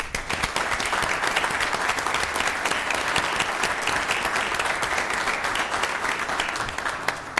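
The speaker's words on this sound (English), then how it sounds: "I think we deserve to give you a round of applause" Council chamber audience applauding police officers at a city council meeting, dense even clapping from many people held at a constant level throughout, with no voices on top.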